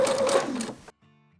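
Sewing machine stitching down the seam allowance at the armhole edge of a warm winter vest, a short burst of close mechanical stitching that stops abruptly, followed by a faint low hum.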